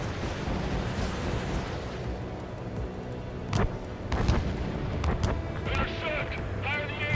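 Anti-aircraft fire in Ace Combat 7, with continuous rumbling booms and cracking bursts under engine roar, some sharper blasts coming through near the end.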